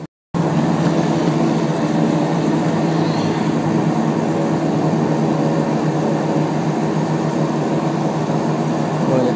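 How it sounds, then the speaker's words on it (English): Bearskin Airlines flight 506 takes off from Timmins, heard from inside the cabin as a loud, steady engine and airflow roar that continues unbroken after a brief silent start. "let's watch the takeoff sequence"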